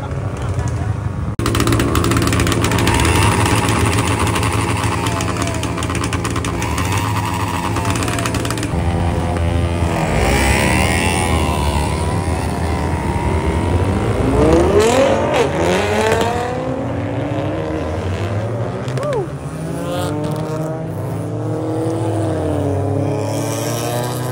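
Loud turbocharged car engines, including a Nissan GT-R R35 and a BMW 5 Series, rev and roar continuously, with rising and falling whines as vehicles accelerate past, under occasional talk.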